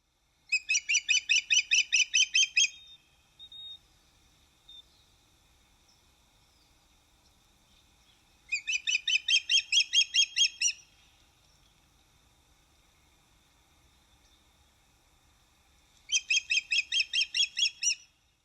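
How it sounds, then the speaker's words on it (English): Osprey near its nest calling in three loud, close bursts of rapid repeated high chirps, each lasting about two seconds with long quiet gaps between, building as a squealing alarm call. "As the perceived threat increases, the call can build in intensity to a wavering squeal."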